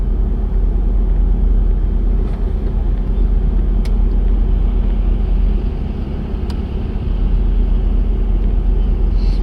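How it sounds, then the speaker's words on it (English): Road traffic held up behind one slow car makes a loud, close, continuous rumble of motor vehicles that barely changes over the stretch. "That one car is holding up half a mile of traffic"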